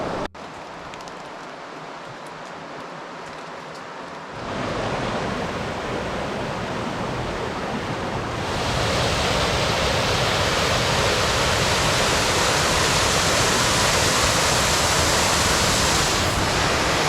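Spoonauger Falls in South Carolina roars as a steady wall of rushing water that grows louder in stages as the listener approaches, ending in a dense, close hiss with no voices.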